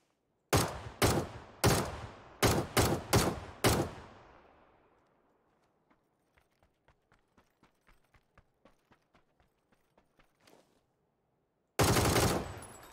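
Heavy boxes of 9mm ammunition, 200 rounds in all, are dropped in a series of loud, sharp thuds. A quieter patter of small metallic taps follows, then another loud crash at the end.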